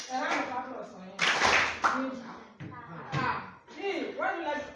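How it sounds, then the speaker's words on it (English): Brief burst of clapping from school students on a visit to the National Library in Owerri, rising in the middle while children and an adult talk loudly around it. "A round of applause for him."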